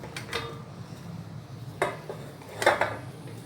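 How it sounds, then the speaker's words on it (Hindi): Sliced peaches dropped into a cooking pot, heard as three brief clattering knocks of fruit and utensil against the metal pot, close and moderately loud, with quiet room noise in between. "ये मैंने सारे पीचेस इस पतीली में डाल दिए।"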